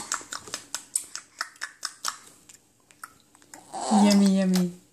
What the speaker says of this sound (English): See, he's chewing off the spoon.